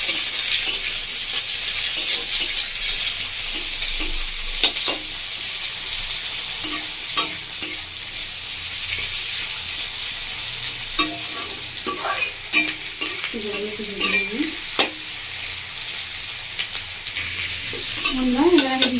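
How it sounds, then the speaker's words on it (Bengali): Chopped capsicum frying with onion in a pan, a bright continuous sizzle with frequent spatula scrapes and clinks against the pan, close up and without speech. "এবার দিয়ে দিচ্ছি আমি ধুয়ে কেটে রাখা ক্যাপসিকাম কুচি।"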